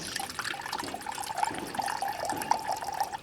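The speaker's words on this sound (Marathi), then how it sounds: "भाकरीसाठी पाणी ठेवतोय गरम करायला." Water runs and splashes steadily into a vessel, set to heat for kneading bajra (millet) bhakri in a home kitchen, a continuous close trickle with no talking.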